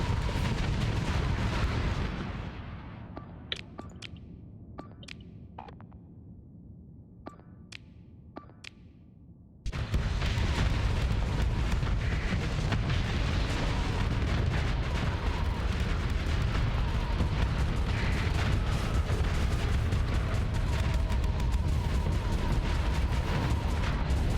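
Heavy gunfire from the Onslaught's guns in the space combat game Starsector roars loud and dense, a continuous barrage after a quieter stretch with scattered sharp shots, booming and rumbling without pause.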